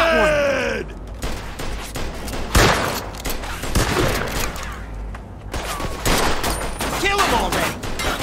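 Gunfire in the video game Mafia II: rapid bursts of shots and sustained automatic fire, loud and close, with impacts and booms mixed in, while voices shout and talk over the shooting.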